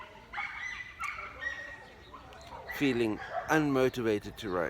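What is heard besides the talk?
dog barking in the background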